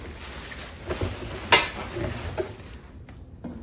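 A saute pan from a new cookware set is unpacked and handled, giving scattered metallic knocks and rustling with one sharp clank in the middle, close by, then fading into quiet.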